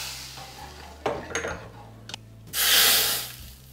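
Cumin seeds and three or four dried chillies crackle in hot oil for a sambar tempering, a steady close sizzle broken by a few clattering stirs and pan knocks, then a louder hiss that swells near the end.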